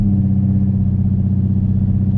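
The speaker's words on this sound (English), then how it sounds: "I keep the idle chop mod in" A 2005–2010 Ford Mustang with the 4.0 V6 idles loud and close, a deep steady rumble with a choppy, loping pulse from an idle chop modification, no voices.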